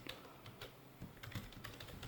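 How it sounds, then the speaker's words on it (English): Quiet, irregular key clicks from typing on a computer keyboard during a programming lecture, a loose sequence of light taps over a low steady background with no voices. "You can do so by typing"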